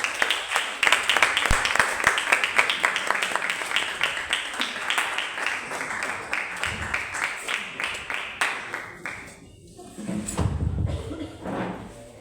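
A congregation at a Thursday healing church meeting breaks into sustained, fairly loud applause to welcome the pastor, the clapping continuing steadily with a brief dip before picking up again near the end.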